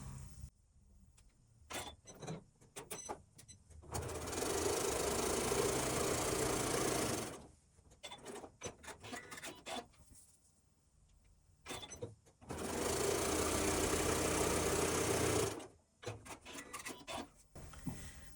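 Sewing machine stitching quarter-inch seams on quilt half square triangles in two steady runs of several seconds each, with fabric handling and clicks in between, close and with no talk.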